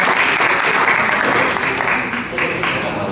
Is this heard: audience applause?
yes